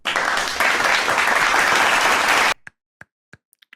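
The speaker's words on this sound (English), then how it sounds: "I'm going to hit the clapping button on our soundboard." A soundboard crowd-applause effect claps loudly and steadily, then cuts off abruptly, leaving a few scattered individual claps trailing into quiet.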